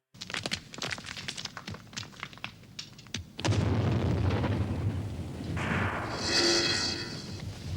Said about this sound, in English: Sounded like an explosion. Was it an explosion?